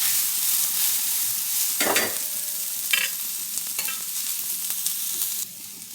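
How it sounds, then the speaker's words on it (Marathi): Onions frying in a pan for a Marathi shev bhaji, a steady close sizzle with a few louder crackling bursts and spoon scrapes as they are stirred, no voices. "कांदा खूप लाल नाही करायचा आहे आपल्याला, फक्त थोडासा रंग बदलेल इतका फक्त भाजून घ्यायचा आहे"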